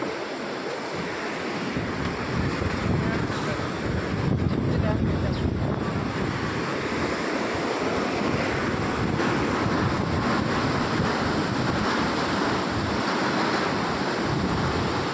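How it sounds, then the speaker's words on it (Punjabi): A loud, constant rush of the Alaknanda river flowing at Govindghat fills the scene, with wind buffeting the microphone and a voice briefly heard in the background. "ਆ ਨਦੀ ਵਹਿੰਦੀ ਆ"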